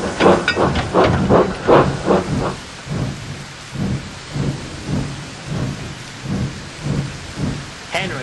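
A steady rainstorm with thunder: rumbling thunder rolls over continuous hissing rain, with a regular pulsing rhythm of heavy strokes throughout, loud and close, no voices.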